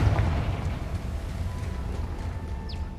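A Confringo blasting spell explodes in the Hogwarts Legacy video game, a deep rumbling boom that starts strong and slowly fades into a low roar, with a faint high chirp near the end.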